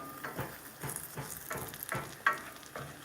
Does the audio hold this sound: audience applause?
no